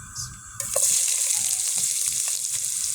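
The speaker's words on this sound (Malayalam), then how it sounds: "ഇതുപോലെ അത് നമ്മൾ ഉള്ളി വാട്ടിയെടുക്കാം" Onion sautéing in hot oil on a stove, starting quiet and then breaking into a loud, steady sizzle as the onion hits the oil, with a few soft stirring knocks.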